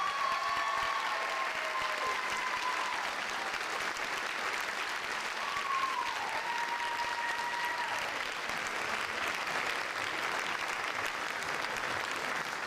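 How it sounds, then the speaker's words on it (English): A full audience at the Canyons School District Teacher of the Year ceremony gives steady, dense applause, with a couple of whistles or whoops rising above the clapping, sustained for the whole stretch. "One more round of applause for the Canyons District Teacher of the Year"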